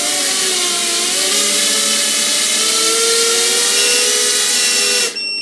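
Motors on a 5-inch quadcopter spin up on a test stand at about 45–50% throttle with a loud, steady high-pitched whine whose tones drift slightly, then cut off sharply near the end.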